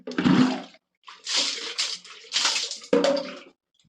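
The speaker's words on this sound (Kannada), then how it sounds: "ಇರಿ ನೀರು ಸುರುತ್ತೀನಿ" Water is poured or splashed in four separate bursts, each a loud slosh followed by a brief pause.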